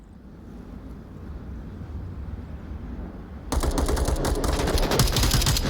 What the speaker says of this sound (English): Shots coming out from Mr. Tripp onto Care, and they exchange a little bit of fire.